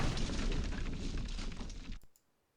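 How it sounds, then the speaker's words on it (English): War video game set in the Philippines, a dense rumbling burst of explosion and gunfire noise that lasts about two seconds and then cuts off abruptly into near silence, with no talk. "let's just start shooting"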